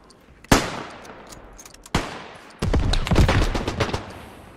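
French rifle gunfire in the World War I shooter Beyond The Wire: two sharp, separate shots with ringing tails, then a loud, dense stretch of rapid overlapping fire from nearby.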